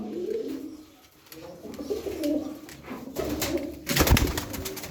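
A group of bango pigeons with yellow leg bands coos nearby in repeated low throaty phrases, pausing briefly before swelling again, ending with a burst of wing flapping or scuffling.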